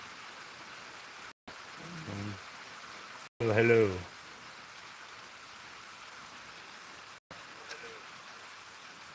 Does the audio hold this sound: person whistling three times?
no